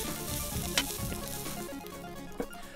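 Thanksgiving fried rice crisps in a hot pan with a steady, close sizzle, broken by two brief clatters of stirring; no one talks.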